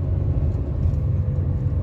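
A motor tricycle engine laboring uphill on a steep road toward Baguio: a steady, heavy low rumble with a droning motor note under it, close and continuous with no letup. Nobody talks.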